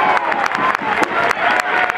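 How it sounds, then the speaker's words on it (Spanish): At a children's carnival parade, a crowd claps and cheers in a dense, lively burst with scattered sharp claps and shouts, close and fairly loud for two seconds. "¡Un fuerte aplauso!"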